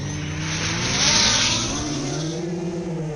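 A long-range FPV drone fitted with high-KV motors flies on a 5S versus 4S setup, giving a steady loud whine with motor buzz and a throttle swell near the middle, continuous for the whole stretch without speech.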